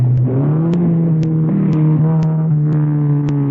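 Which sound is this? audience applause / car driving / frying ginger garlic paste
car driving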